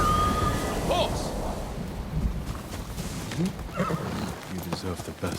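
A horse neighs in the video game Ghost of Tsushima, a short rising whinny heard up close amid hoofbeats and busy game ambience.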